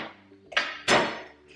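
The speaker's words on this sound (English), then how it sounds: "Mash each garlic clove to remove it from its skin. Sometimes it takes a few smashes." Two sharp knife-blade smashes on fresh garlic cloves against a cutting board to loosen the skins, close and loud, with a brief clatter between them and no talking.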